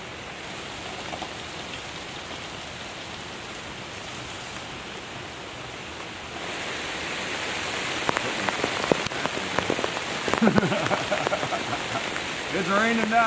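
Steady heavy rain drums on a tent during a May backpacking trip on Indiana's Two Lakes Loop Trail, a dense continuous hiss that grows louder and busier midway with sharper drop impacts near the end.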